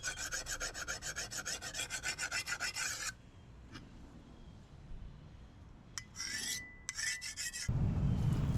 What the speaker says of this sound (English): Now I will sharpen my cleaver knife to clean the fish.